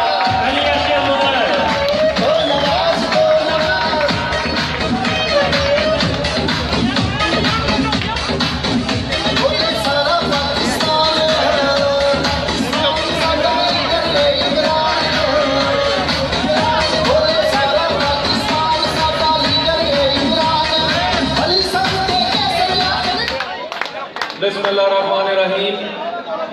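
Applause and cheering fill a hall at a Gujranwala youth convention as a speaker is welcomed, a dense, sustained roar of clapping and crowd noise that cuts off near the end, leaving faint voices.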